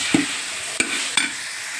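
Amaranth greens (thotakura) frying in a pan, a steady soft sizzle with a few sharp scrapes of stirring, close by and without talk.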